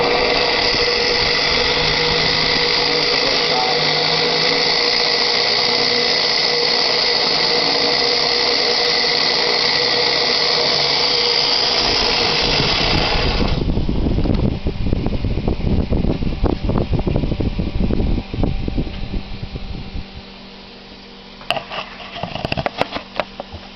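Centrifugal casting machine running after gold is melted: a steady loud whir and hiss that cuts to a rougher spinning rattle midway, then thins out with scattered clanks near the end.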